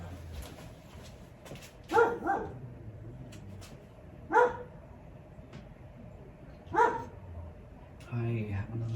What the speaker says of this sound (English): What are you barking at, Kazi?